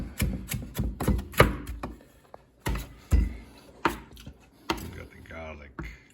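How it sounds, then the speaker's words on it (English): Celery being chopped with a knife on a board for an Italian osso buco, heard as a quick run of close, sharp knocks that pauses, then returns in scattered strokes while people talk nearby. "And chop up some celery, nice and small too."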